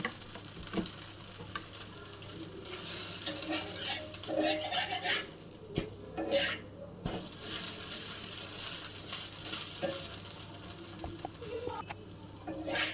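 A ghee dosa fries on a hot pan with a continuous sizzle, broken by scraping and clinking of a metal spatula and a few sharp knocks against the pan.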